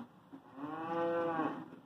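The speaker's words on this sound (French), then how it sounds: "Eh oui, une vache." A single cow gives one close, clear, drawn-out moo, rising and then fading over about a second and a half against a quiet background.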